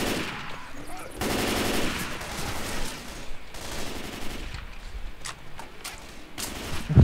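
Rapid bursts of M16 rifle fire in the zombie shooter Left 4 Dead 2, a dense, sustained rattle with brief pauses and some game noise underneath, loud and close throughout.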